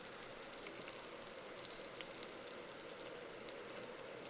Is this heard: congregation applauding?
no